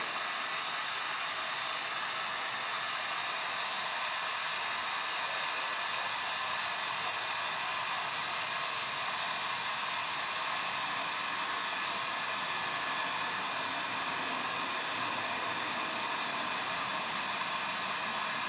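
A hair dryer or heat gun blows a continuous, steady rush of hot air while warming the emblem adhesive on a Mercedes W211, close and unbroken for the whole stretch with no talking.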